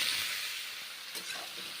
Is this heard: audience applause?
no